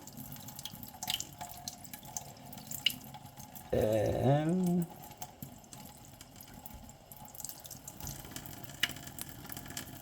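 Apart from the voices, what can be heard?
tap water filling a cuff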